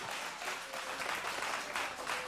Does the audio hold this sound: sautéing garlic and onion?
no